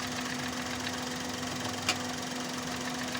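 A misfiring car engine idles with a steady, low droning hum and a faint uneven knock, heard up close with a single brief click partway through and no talk.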